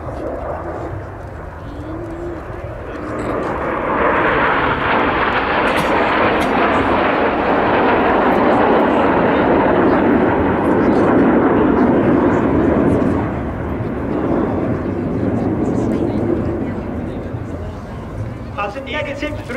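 Red Arrows jets flying an aerobatic display at RIAT 2024, their loud, sustained broadband jet roar swelling and holding for many seconds before easing slightly, with a commentator talking over the noise.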